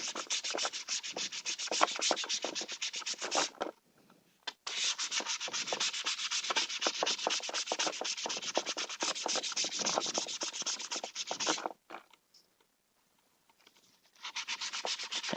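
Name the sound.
sanding lip off heated PVC Sintra backplate edge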